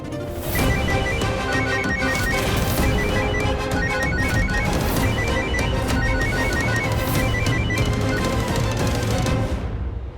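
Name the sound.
phone ringing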